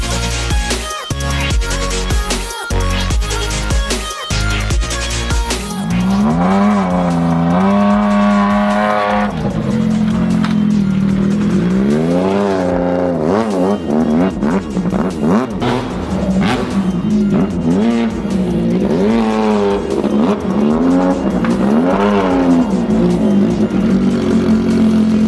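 A Yamaha Viper snowmobile fitted with a custom GGB exhaust rides along loud and close. A few sharp bursts open the run, then the engine revs up and down in repeated rising and falling sweeps.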